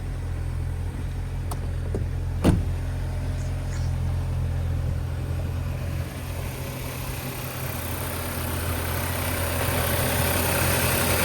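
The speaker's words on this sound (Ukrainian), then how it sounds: "Ось бачите, автомобіль у нас завівся" An Audi A6 C6 2.0 TFSI engine idles steadily with a low rumbling drone, close by, with a couple of brief clicks near the start; its crankcase ventilation valve is faulty.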